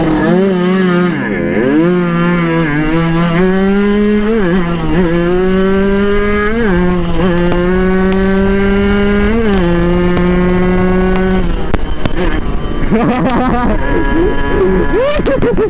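A loud, steady car engine whine in a racing video game, rising and falling in pitch as it revs and shifts, with sharp clicks and chirps breaking in near the end.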